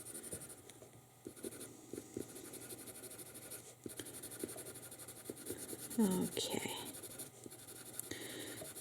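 A coloured pencil, Polychromos or Prismacolor, shades softly on paper in quick, light strokes with a dry scratching texture, close and quiet, while someone says a single word partway through.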